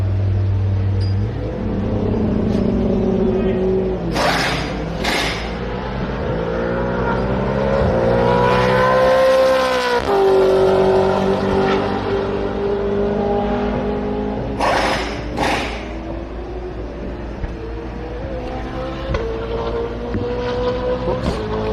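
A Triple Eight V8 Supercars race car at a private test day at Queensland Raceway, engine rising and falling loudly as it weaves at low speed to heat its tyres, with steady wind rush over the microphone.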